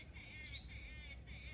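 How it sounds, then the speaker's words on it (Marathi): Sparrows chirp in the morning, a dense overlapping twitter of high calls from several birds, fairly near but soft, with no talking. "चिमण्यांचा चाललाय किलबिलाट."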